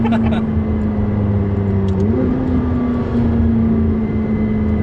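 McLaren 675LT engine pulling hard under acceleration, a steady loud drone that steps up in pitch with a gear change partway through, close and continuous.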